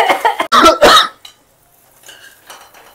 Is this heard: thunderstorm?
no